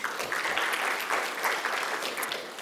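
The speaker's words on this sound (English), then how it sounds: "Please clap for them once again." Applause from an audience at a renewable energy event, a soft, steady wash of many hands clapping at a distance for a few seconds.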